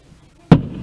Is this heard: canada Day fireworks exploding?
yes